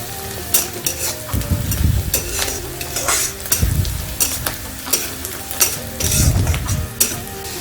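Onions fry in a pan, a close, busy sizzle with repeated scrapes and stirring clatters and occasional heavier low thumps, continuing steadily without talk.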